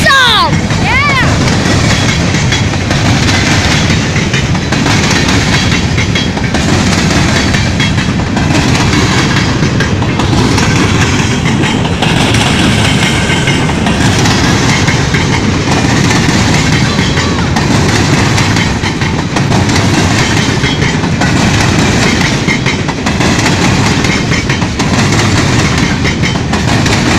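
Train on the tracks, a loud, continuous rumble with rhythmic clattering of wheels that fills the whole span, with excited voices in the background.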